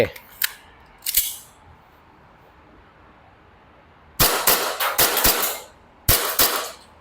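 A Tokyo Marui Hi-Capa 5.1 Gold Match Custom airsoft gas pistol fires sharp, close snapping shots: a pair near the start, then a rapid string of about six, and a final few, with quiet gaps between.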